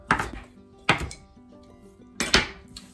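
A knife chops kale on a cutting board in three separate bursts of sharp, close, crisp strokes, with a faint tonal hum underneath and no talking.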